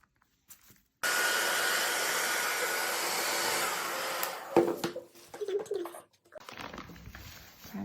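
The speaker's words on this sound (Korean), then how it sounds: "드라이기로 살짝 말리신 다음에 내 손에 붙지 않을 정도만 살짝 말리고" A hair dryer whirs steadily for a few seconds drying a napkin-craft bag, then switches off, followed by small handling noises and brief rustling.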